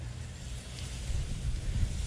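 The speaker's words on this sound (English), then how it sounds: "Bit windy today, sorry guys." Wind gusts steadily outdoors on a windy day at a carp fishing spot, a constant low roar of buffeting against the microphone with no voices.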